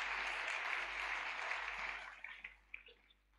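A church congregation claps together in a dense, steady wash of applause that thins out into a few scattered claps as it fades.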